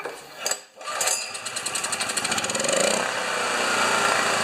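A choked small engine cranks with rapid pulses that quicken, then catches and settles into a steady running drone, heard close and fairly loud.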